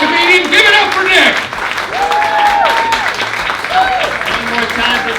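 An audience at a comedy showcase on Broadway applauds steadily and loudly throughout, with a host's voice speaking over the clapping.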